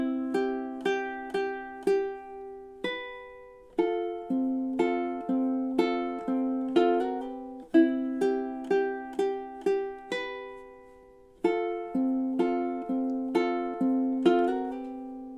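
A ukulele plays the opening measures of a song, picked notes and arpeggiated chords ringing out in a steady, even rhythm, clear and close with no voices.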